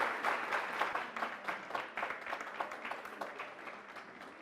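An audience in a hall applauds for a professor at a faculty's 60th anniversary celebration, fairly faint, steady clapping that slowly tapers off.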